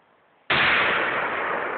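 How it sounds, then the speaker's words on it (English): A shotgun is fired at a 38-inch TV, delivering one sudden, loud, close blast that leaves a sustained roaring wash of noise, following near-silence before it. "Shoot off a couple rounds."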